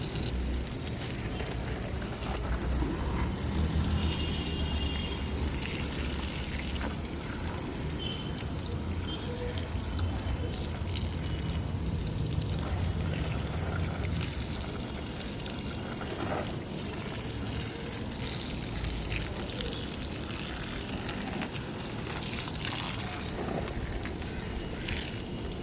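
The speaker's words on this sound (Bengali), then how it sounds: "এই দেখো গাছে জল দিয়ে নিই" Water poured onto potted garden plants, including a red hibiscus, a steady broadband wash of splashing and trickling that runs unbroken throughout, fairly close, with faint background noise and no clear talk.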